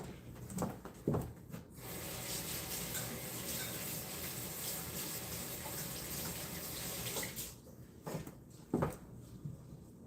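Water runs steadily from a kitchen tap for several seconds while hands are wetted for rolling dough, bracketed by brief splashy handling sounds at the start and end.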